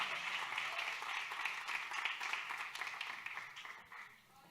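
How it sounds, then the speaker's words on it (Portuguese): Faint applause from a congregation during a Friday evening church service, a soft, steady patter of clapping that gradually fades out over a few seconds. "Uma salva de palmas para o Senhor Jesus."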